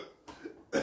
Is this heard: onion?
no